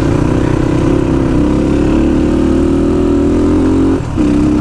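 A sport motorcycle on a mountain road, its engine droning loud and steady with a slight pitch rise, then a brief dip near the end before the drone resumes.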